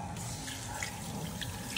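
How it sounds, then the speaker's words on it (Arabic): Water pours steadily into a cooking pot in a home kitchen while a dish is being made, a soft continuous splashing and trickling close by, with no talking over it. "هلا بننزل المي"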